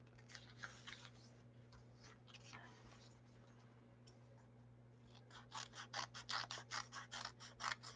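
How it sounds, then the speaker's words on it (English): Scissors snip paper circles in a run of quick, faint cuts, sparse at first and then a rapid rhythmic burst near the end, over a low steady hum. "Let's see if I can cut better circles this time."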